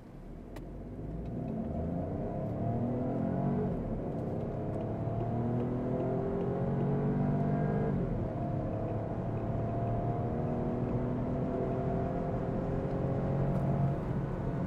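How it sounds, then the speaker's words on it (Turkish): A 2024 Opel Astra 1.2 Turbo, 130 HP, accelerates hard from standstill in sport mode, its engine a steady droning rumble with rising revs through the gears, heard from inside the cabin with wind noise and no talking. "0-100 yapacağım"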